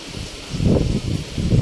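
Strong wind gusting with heavy monsoon rain beside a parked vehicle in a village at night, a steady rushing roar that swells and buffets the microphone, fairly loud and continuous, with no talk.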